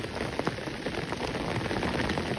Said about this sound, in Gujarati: કાલ રાતનો મિત્રો ત્રણ વાગ્યાનો વરસાદ એમણે સતત ચાલુ છે અને બધે ભાઈ અત્યારે પણ ચાલુ છે